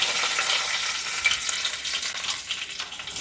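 Mustard seeds, fenugreek, cumin and curry leaves frying in hot oil for green chilli sambar, a loud, dense, continuous sizzle with faint crackles close by and no talking.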